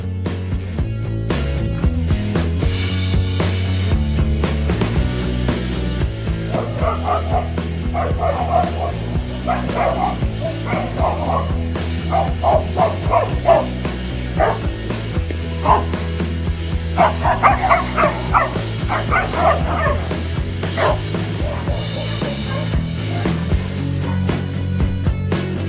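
Dogs fighting and barking after returning home, one tangling with a neighbour's dog: repeated yips and barks over a steady loud bed of background music, with bursts of sharper barking throughout.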